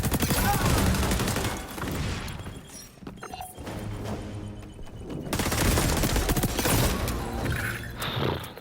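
Rapid gunfire in the shooter game XDefiant, loud sustained bursts of shots with a short lull in the middle before the firing resumes, and some talk underneath.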